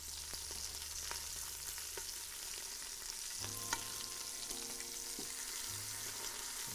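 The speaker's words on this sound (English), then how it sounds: "Now we're getting that nice sear everywhere." Meat sears in a hot pan with a steady, close frying sizzle that runs throughout, broken by occasional clicks and scrapes of stirring with a utensil, and with no talk over it.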